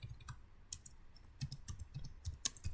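Keystrokes on a computer keyboard, a quiet, uneven run of close clicks with short pauses between bursts.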